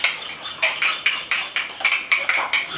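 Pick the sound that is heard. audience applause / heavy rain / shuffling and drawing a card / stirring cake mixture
stirring cake mixture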